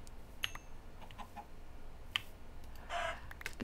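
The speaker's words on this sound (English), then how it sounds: "I'm not worried about you, chicken." A Minecraft chicken clucks in a short video game scene, giving a few sharp, bright clucks spaced out over a quiet background and heard alone, with no talking.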